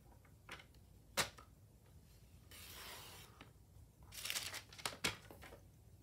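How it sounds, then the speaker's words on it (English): Paper is cut to size with a trimmer for a Valentine heart envelope, giving faint sharp snaps and scraping, crinkling swipes, sparse and quiet, in a hushed room. "you're gonna cut it at 2 1/4"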